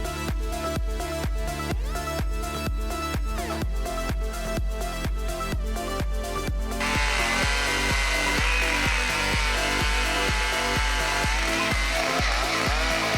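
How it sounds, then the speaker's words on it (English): A Stihl MS-880 chainsaw on a huge pine trunk throbs with loud, rapid engine pulses, then swells into a dense, continuous cutting roar partway through, close and unbroken by voices. "the Stihl MS-880 chainsaw roars like a steel beast"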